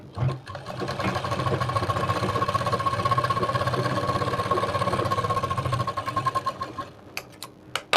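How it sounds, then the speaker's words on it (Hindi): Sewing machine stitching a Matka Gala blouse, a steady close whirring run with rapid needle ticking for about six seconds, then slowing into separate stitches before stopping. "इस पे एक सिलाई लगाएंगे"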